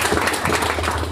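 Audience applause at a Startup Grind Austin event, dense continuous clapping filling the room evenly and loudly throughout, with no talk over it.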